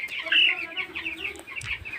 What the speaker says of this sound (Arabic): زي ما انتم شايفين الفرخ جميل كده